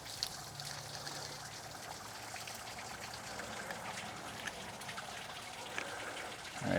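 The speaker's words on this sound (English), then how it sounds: "Alright, I can stop that water." Water running from the plumbing between a buffer tank and a pressure washer, a steady soft trickle and splash that continues evenly throughout with a faint rise at the end.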